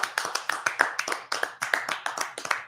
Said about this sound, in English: Oh, sorry, I'm clapping.